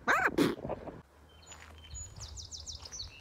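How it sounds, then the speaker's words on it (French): Small birds chirp and sing by a lake in the countryside, with several faint, high, rapid repeated notes rising over quiet outdoor ambience after a brief nearby voice at the start. "Est-ce que tu entends les petits oiseaux?"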